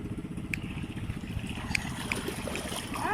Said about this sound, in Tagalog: Kagaya ng mga bangkang dumadaan